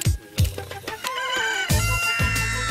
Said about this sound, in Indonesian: ayam-ayam peliharaan Abu Bakar sangat sehat.